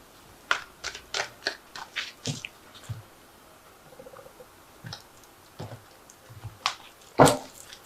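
Tarot cards are drawn one after another from a freshly shuffled deck, making a quick run of soft, crisp clicks and slaps, then scattered lighter card sounds and a sharper snap near the end.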